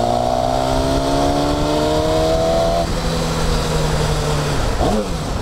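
A motorcycle engine revs loudly and continuously at close range, its rising harmonic tone climbing through the gears before dropping off and flaring again briefly near the end, with a steady rumble underneath.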